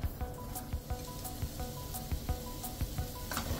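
Ginger sizzles and fries in a pan for a Kerala-style puli inji curry, a steady close crackle with irregular popping spits and occasional stirring scrapes, no voices present.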